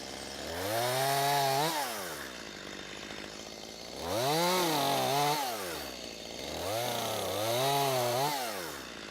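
Chainsaw cutting small tree branches to length for a chipper, in three separate bursts that each rev up and then fall away, with short idle pauses between them.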